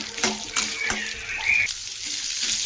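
Garlic, onions and coriander seeds sizzle and get stirred in an oil-filled pan for a South Indian ennai kathirikkai kuzhambu, with steady close frying hiss and occasional clinks of a utensil against the pan.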